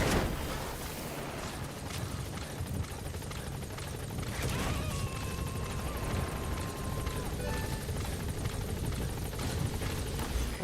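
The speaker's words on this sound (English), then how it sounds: "Support helicopter has arrived." A support helicopter arrives in the Metal Gear video game, its rotor and engine drone steady and loud throughout, with a faint whine rising briefly midway.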